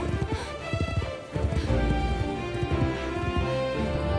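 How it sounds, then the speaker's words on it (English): Rapid hoofbeats pound in a steady galloping rhythm, fairly close, over a sustained musical backdrop. "She rode her horse into the dark forest"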